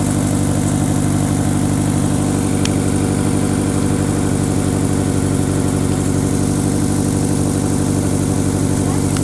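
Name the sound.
Honda car engine running at idle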